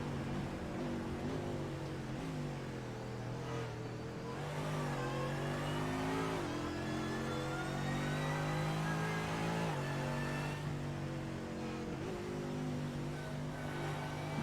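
Mercedes GT3 race car accelerating hard down a straight at VIR, a loud, continuous engine note with rising harmonic sweeps through the gears, steady and close throughout.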